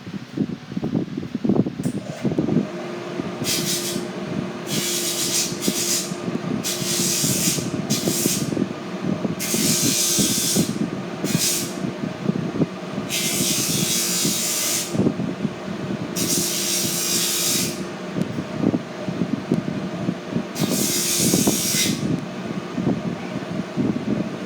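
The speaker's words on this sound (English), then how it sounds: "I'm going to go ahead and just run it on the sander really quick" A power sander buzzes in repeated short bursts against toe stiffener material, smoothing down wrinkles, loud and close over a constant background hum.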